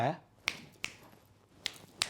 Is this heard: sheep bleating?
no